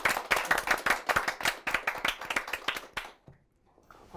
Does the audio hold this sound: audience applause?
yes